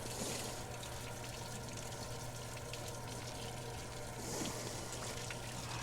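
Water gushes steadily down into a dry well during flood relief work, a constant rushing flow held at even loudness from start to finish, with no voices over it.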